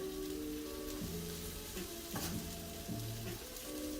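Carrots and squash are scooped into a hot tray and sizzle steadily, a dense continuous crackle with soft scraping as the vegetables are pushed around.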